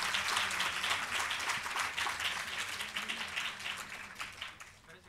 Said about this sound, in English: It calls for a big round of applause for Dr. Manjari Prabhu.